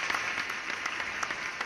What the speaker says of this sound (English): Give me the applause.